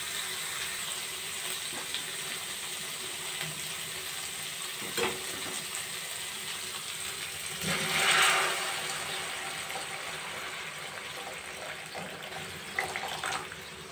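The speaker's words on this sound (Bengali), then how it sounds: "এবার আমি পরিমাণ মতো গরম জল দিয়ে দেবো।" Hot water poured into fried spice masala in a pan on a gas stove, giving a steady hissing sizzle and gush that swells briefly midway, close and unbroken, with no talk.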